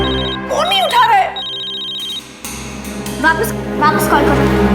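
A telephone rings in short repeated electronic bursts, with a voice speaking in between the rings.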